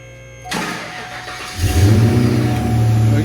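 A Fox Body Mustang with a Zimmer conversion push-starts: a brief cranking burst, then the engine catches and settles into a loud, close, rumbling idle with a slight rev.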